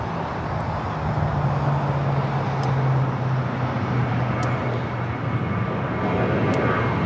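Jet airliner arriving on runway 24 right at Los Angeles International Airport, a steady broad engine roar with a low droning hum holding at a constant loud level throughout, with distant traffic noise mixed in.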